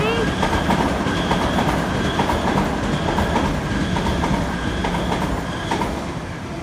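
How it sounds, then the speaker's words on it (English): An express train rolls through a station platform with loud, continuous rumbling and a rhythmic clatter of wheels over rail joints, steady throughout. "the train will be arriving shortly"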